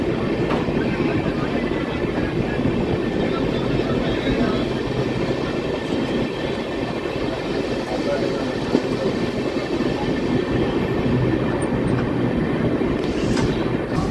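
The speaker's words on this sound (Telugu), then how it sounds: "కావల్ దగ్గర అటు పక్క ట్రైన్ వస్తుంది" A train arriving on the adjacent track at Kavali railway station makes a continuous, loud rolling rumble with faint clatter throughout, and a few voices are faintly present.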